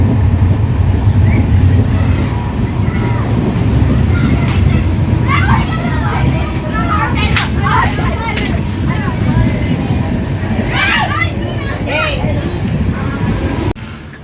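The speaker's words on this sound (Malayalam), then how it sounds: "ട്രെയിൻ തിരുവാവൂർ ജംഗ്ഷൻ റെയിൽവേ സ്റ്റേഷനിലേക്ക് എത്തിയിരിക്കുകയാണ്" Vasco-da-Gama–Velankanni Express with new Kapurthala-built coaches pulls into Thiruvarur Junction, a loud low rumble of wheels and carriages heard from on board while people talk and children's voices rise over it.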